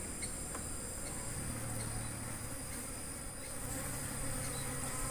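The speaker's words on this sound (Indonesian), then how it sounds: "Ini nih, lebahnya kecil-kecil" Small Apis cerana bees buzz steadily at a wooden bee box on a bee farm, a dense continuous hum of many insects up close with no talk.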